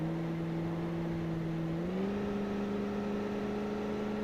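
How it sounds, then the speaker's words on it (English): A car engine in the BeamNG driving game hums at a steady drone, its pitch rising once partway through as it revs up, fairly quiet with no talk. "Maybe a little bit loud for a car that's meant to be all about luxury."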